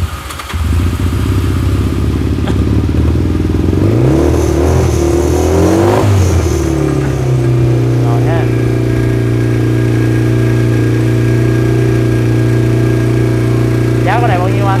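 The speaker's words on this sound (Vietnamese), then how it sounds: "Nổ máy điển hình con Rebel cho anh em nghe trước ha." A Honda Rebel 125 motorcycle at a used-bike dealer starts up close by, revs sharply a few times, then settles into a steady, loud idle that runs on for several seconds.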